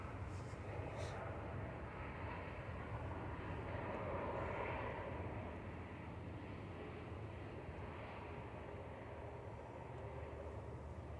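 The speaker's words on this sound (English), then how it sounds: "Simon says he thinks Tom is on this EasyJet to Geneva." An EasyJet airliner at Manchester Airport with a steady, continuous jet engine roar throughout, loud and unbroken, swelling slightly midway, with no clear talk over it.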